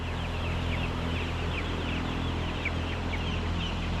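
Tens of thousands of poultry birds fill a farm barn with a dense, steady wash of clucks and chirps, sounding loud and close over a constant low mechanical hum, with no talk.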